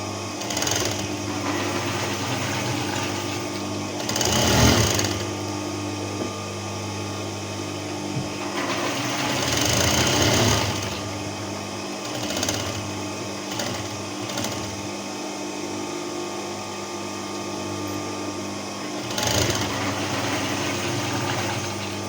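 A sewing machine stitching fabric with the presser foot used as the seam-spacing guide runs in long steady bursts of fast mechanical whirring, close and loud, with brief pauses and clunks between runs.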